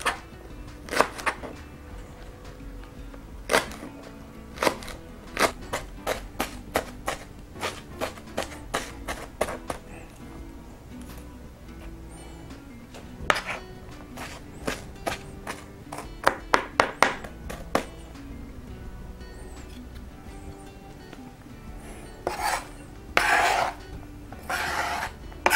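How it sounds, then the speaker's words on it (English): A knife chops green onion for pico de gallo on a cutting board in irregular runs of sharp, close taps with short pauses, quiet otherwise and without talk. "next, we start chopping the green onion."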